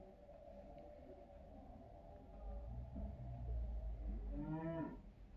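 A large bull on a farm lets out a long, deep moo that swells in loudness and then ends with a rising, harmonic bellow, faint and somewhat distant over a low background rumble.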